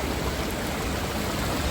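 Water pours over the Bharatapuzha check dam in Palakkad, Kerala like a waterfall, a loud, dense, steady rush filling the whole moment without a break.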